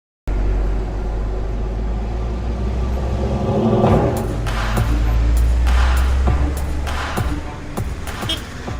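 Car driving up to the Ukrainian Naval Command base in Ukraine, with a steady low engine rumble and road noise throughout, occasional clicks and knocks over it, and some speech-like sounds in the cabin.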